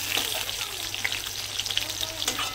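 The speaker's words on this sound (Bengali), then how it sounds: "আর পটলগুলো ওকে লাল করে আমি ভেজে নেবো একদম" Pointed gourd (potol) frying in hot oil makes a close, continuous sizzle with crisp popping crackles throughout the short stretch, and no voices.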